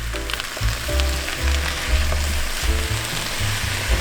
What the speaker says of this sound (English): now that the veggies are cooking up very nicely